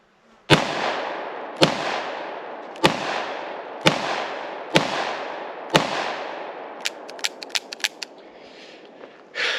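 Six loud Ruger revolver shots fire at a steady pace, each a sharp crack with a long ringing tail, followed by a flurry of quieter distant pops from other shooters.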